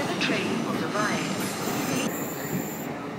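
A train passing through Battersea Park station, loud and close, with a steady rumble of wheels on rail and high squealing from the wheels for the whole stretch.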